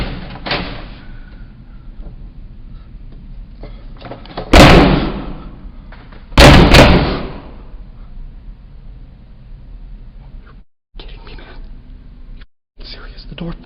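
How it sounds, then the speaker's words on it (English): A locked door rattled and slammed hard twice in a creepy building, two loud nearby bangs standing out over a low rumbling background with faint whispery noise. "The door fucking locked."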